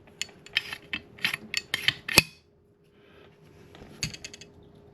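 A Ruger Sporter rifle bolt worked back and forth during reassembly gives crisp, close metallic clacks and ratcheting clicks in a rapid series, then a short silence and one last clack.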